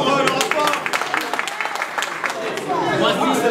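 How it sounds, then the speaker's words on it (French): An audience claps through the whole stretch at a community election gathering of Congolese people in Dallas, dense overlapping claps with murmuring voices underneath. "On applaudit pour le rapport."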